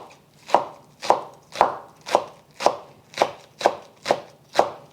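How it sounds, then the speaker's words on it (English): A knife chops two green onions on a cutting board with nine steady, evenly spaced thuds, close and distinct, with no talking. "I've got 2 green onions I'm just gonna chop up."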